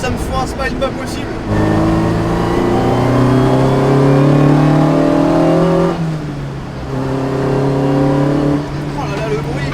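Lotus Exige S1 engine revving hard while driving, climbing in pitch through two strong pulls with a brief gear-change dip between them, loud and close, with someone talking over parts of it.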